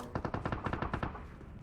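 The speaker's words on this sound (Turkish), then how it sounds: "Bu taraftan silah sesi geliyordu ha." A rapid burst of automatic gunfire in PUBG Mobile, about a dozen evenly spaced shots in quick succession, sounding somewhat distant and muffled.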